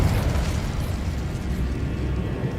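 Confringo blasting spell from Hogwarts Legacy erupts in a dense, loud explosive roar that rumbles steadily for a couple of seconds with no pauses.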